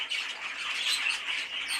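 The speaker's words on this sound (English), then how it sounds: "This bird might just about be ready for the swinging show" A grey green pet bird in a breeding shed gives a continuous harsh, close squawk lasting under two seconds, loud and alone with no talk.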